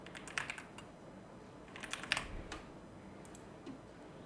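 Light typing of a short word on a computer keyboard: a few scattered soft key taps in two small bursts over a steady background hiss, with no talk.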